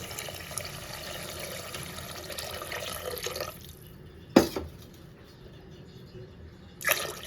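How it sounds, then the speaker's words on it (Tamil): Two glasses of water pour steadily into a pot for a few seconds, then stop, followed by a couple of sharp knocks of glass or metal in a quiet room. "ரெண்டு கிளாஸ் தண்ணி சேர்த்துக்கிறேன்"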